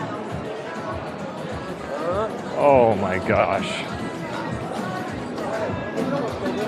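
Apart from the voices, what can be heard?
crowd of tourists near a fountain in an alleyway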